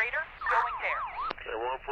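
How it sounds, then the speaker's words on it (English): Electronic fire alarm from the emergency dispatch video game 112 Operator, a rapidly warbling, sweeping synthetic tone that repeats for about two seconds, fairly loud and close, with a brief sharp click partway through. "Fire alarm."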